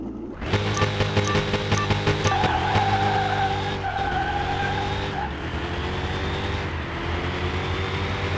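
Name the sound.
Ferrari race car engine and skidding tires in video game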